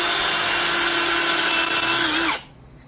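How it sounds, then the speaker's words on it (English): A power drill bores one hole in wood with a 3/16 inch bit in a chain-drilling setup, whirring loud and steady up close for about two seconds before winding down and stopping. "and drill one hole"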